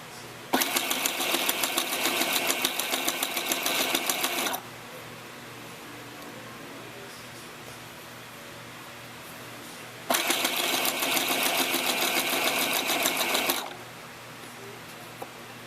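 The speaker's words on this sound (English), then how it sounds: "I'm going to sew up." A sewing machine runs in two close, loud bursts of about four seconds each, stitching a tutu purse, separated by a quiet stretch of room tone.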